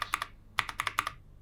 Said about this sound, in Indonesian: kesan mengetik yang lebih ringan, dengan bunyi yang asik aja didengar gitu